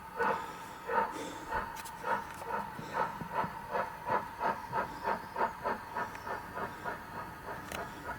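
A model Black 5 steam locomotive's sound unit chuffs steadily as the engine runs along model railway track, with a brisk, even beat of exhaust puffs and a faint hiss, moderately close and with no talking.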